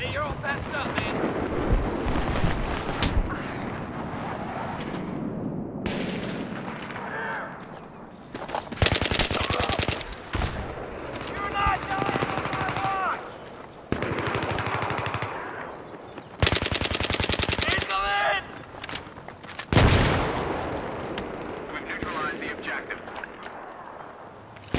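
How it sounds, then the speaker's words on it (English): Sustained machine-gun fire and scattered gunshots in a Battlefield-style first-person shooter, loud bursts of rapid automatic fire coming in waves over roughly 25 seconds, with a player talking over parts of it. "Oh, right on cue, the bullets come."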